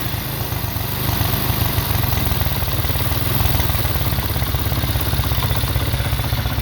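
A pit bike engine idles steadily after a carburetor pilot jet clean, its idle previously set too high, giving a close, continuous low-pitched putter with a faint mechanical clatter and no talking.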